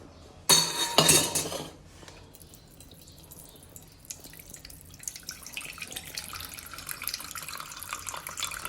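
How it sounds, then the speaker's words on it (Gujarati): A pot of potatoes being put on to boil in a home kitchen: a sharp clatter of metal pot and utensils, then a quiet pause, followed by a growing hiss of running or bubbling water, close by with no talking. "બટેટા મૂકી દઈ બાફા."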